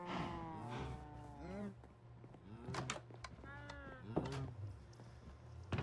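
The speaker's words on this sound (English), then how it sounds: "Let's feed the cows too while we're at it." Cows moo repeatedly in the video game Minecraft, several drawn-out bovine calls at a moderate level over a low steady background hum, with no talk over them.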